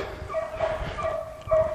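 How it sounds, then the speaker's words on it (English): A dog barks and yips a few times in quick succession, fairly close and alone, with no talk over it. "Get this dog here."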